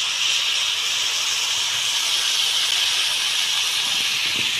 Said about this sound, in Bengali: এবার সর্ষে বাটা দেওয়া হচ্ছে।